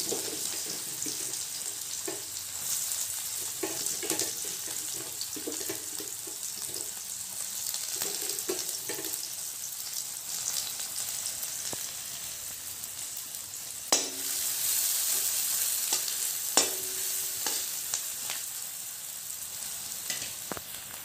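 Onions being fried in hot oil in a wok for an Assamese fish curry, giving a steady sizzling hiss throughout with scattered clinks and scraping, and a louder stir or two near the end; no talking.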